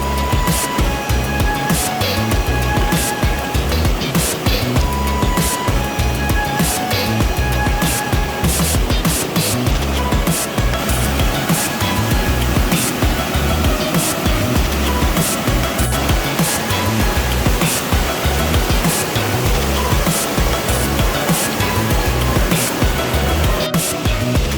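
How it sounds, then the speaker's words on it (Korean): Cold water from an upstream mountain valley spills over a small waterfall into a natural pool. A loud, continuous rushing and splashing roar stays close and constant throughout. "위쪽 상류에서 내려오던 계곡물은 작은 폭포를 만나 시원한 물을 마음껏 뿜어내고 작은 수영장을 만들어줍니다."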